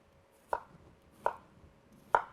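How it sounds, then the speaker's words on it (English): Knife making vertical cuts through half a peeled white onion on a cutting board, three crisp separate chops spaced about a second apart, close and clear in a quiet kitchen with no talking. "So I'm just going to make some vertical cuts."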